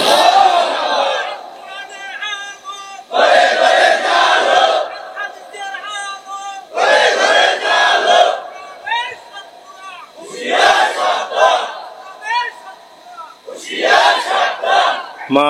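A large crowd at an Islamic religious gathering loudly chants takbir in repeated call-and-response bursts, each swelling roar separated by short pauses, close and energetic.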